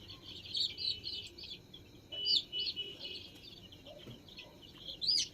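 Young poultry chicks peeping and chirping in short, high bursts during LaSota eye-drop vaccination on a poultry farm, scattered calls over a low steady background hum.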